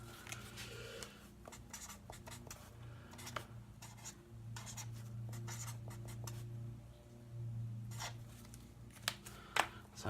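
A measurement noted down by hand during a 1950 MG TD rebuild, quiet close scratching strokes of pen or pencil on paper in short bursts, with a few louder scrapes and soft background hum.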